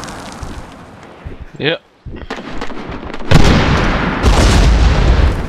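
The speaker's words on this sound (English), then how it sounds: "Shit, grenade!" A grenade blast in the Medal of Honor Warfighter multiplayer shooter, a loud booming burst with a long rumbling tail, following a brief voiced exclamation and some earlier muffled game noise.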